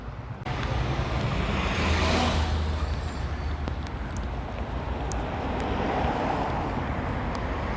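Busy street traffic in Seoul with cars and heavier vehicles rolling past, a dense steady roar of engines and tires, fairly close, with an air-brake hiss and a few short clanks along the way.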